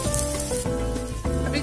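Kashmiri chili powder frying in a hot pan, a close, bright sizzle that crackles continuously with a couple of brief surges as it is stirred, no voices.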